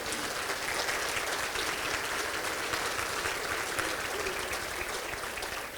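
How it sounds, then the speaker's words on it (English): Steady audience applause for the orchestra at a bank's stockholder dinner, a broad, even wash of many hands clapping that holds at a moderate level throughout, heard somewhat from a distance in a large room. "could we please give a great round of applause to our wonderful orchestra this evening?"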